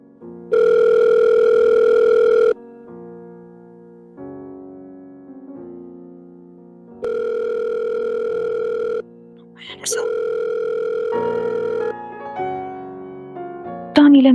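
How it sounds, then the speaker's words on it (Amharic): A telephone call rings out unanswered in a drama scene, with repeated steady ringback tone bursts, each about two seconds long, alternating with softer melodic tones in between. "ለምንድን ነው ስልክ የማታነሳው?"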